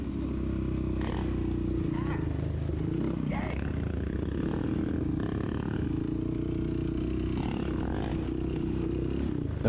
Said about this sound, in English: I'm gonna just let you enjoy the sound of his exhaust